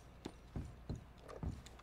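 Horse hooves clip-clop at a slow, even walk in Red Dead Redemption 2, four soft thuds over a couple of seconds, fairly quiet.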